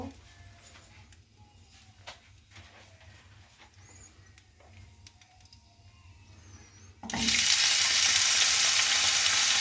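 Potatoes dropped into hot oil with dried red chillies burst into a loud, steady sizzle partway through, following quieter kitchen clatter and faint talk.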